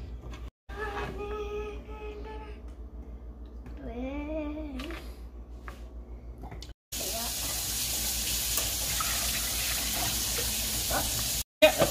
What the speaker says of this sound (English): we just added just enough water to cover the carrots